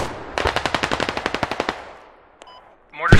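Rapid machine gun fire in the tactical shooter game Squad: a burst of about fourteen evenly spaced shots, close and loud, followed by a faint short shot and a louder rumbling hit at the end.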